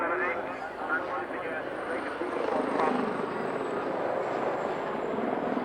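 A helicopter's rotor throbs steadily at a distance at an airshow in Newtownards, 1989, a continuous low chopping drone that swells slightly partway through.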